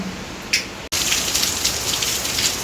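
A steady hiss of rain pours down, filling the clip after a brief quieter moment at the start, with no voices.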